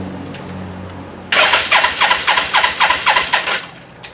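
A 1989 Suzuki GS500 motorcycle engine cranked with the starter but failing to fire, a quiet lead-in then about ten rhythmic churning compression pulses for nearly three seconds, close and loud, stopping abruptly.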